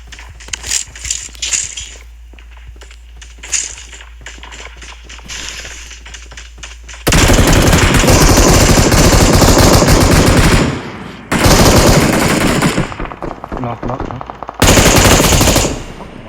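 Long sustained bursts of M249 machine gun fire in the mobile game PUBG Mobile, loud and rapid, in three stretches after a quieter start of scattered game sounds.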